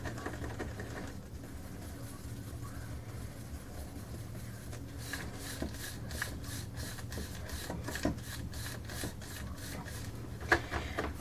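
Acrylic pouring paint is stirred in a plastic cup in a run of quick, rhythmic scraping strokes that speed up midway, close and fairly quiet, with no talking.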